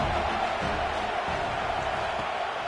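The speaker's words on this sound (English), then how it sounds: "this crowd is turning it up a notch" A stadium crowd roars in a college football video game against Notre Dame, a steady dense wash of cheering and noise that holds at an even loudness throughout.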